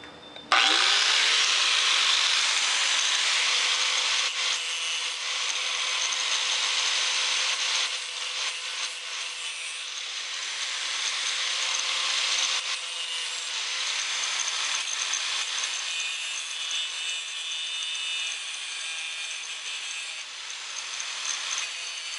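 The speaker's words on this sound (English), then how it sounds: "I'm just going to use this little whiz grinder to do my beveling." A small whiz grinder bevels the edge of a steel card scraper, a loud continuous high-pitched grinding whine that starts abruptly and holds steady, easing slightly in places as pressure shifts, with no voices.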